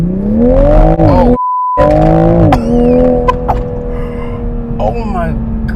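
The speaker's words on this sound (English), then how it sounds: "I'm going to floor it with the traction on." A 2021 Toyota Supra roars up from idle to a full-throttle launch with traction control on, with a short electronic beep and an excited voice exclaiming under the engine noise.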